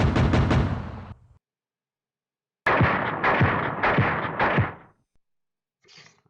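Gunfire in the Cold War wargame Fulda Gap '85: two separate volleys of sharp, booming shots. The first is a quick cluster and the second is a longer run of four or five heavy reports. Silence falls between them, and a faint rumble follows.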